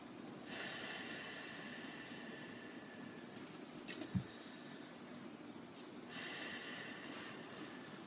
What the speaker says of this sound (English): You're going to do 2 breaths in as a practice.